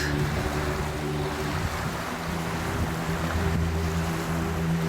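Steady wash of waves on a broad river reservoir near Bakota, a continuous soft surf rumble with wind noise, moderately faint and unbroken, no voices.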